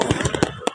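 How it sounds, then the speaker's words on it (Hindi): Fireworks at an Independence Day celebration in Islamabad, Pakistan, several sharp bursts popping in quick succession, loud and close, over a dense crowd-like background. "ये बहुत ही कोई स्पेशल किस्म की आतिशबाजी मुल्क पाकिस्तान ने की है"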